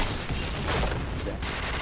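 Suppressed P90 fire in the shooter Point Blank comes as a rapid, dense burst of muffled shots, loud and continuous over a short stretch, with other game sounds mixed in.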